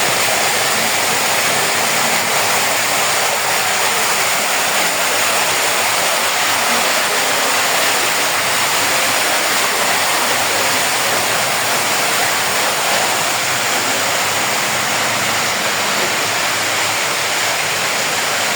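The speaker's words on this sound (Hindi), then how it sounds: "पानी का बहाव कितना तेज़ था और ऐसे लग रहा था जैसे पता नहीं कहीं समंदर टूट के आ गया" Strong rushing floodwater in heavy rain, a constant loud roar of fast-moving water like a waterfall, steady and unbroken throughout with no voices.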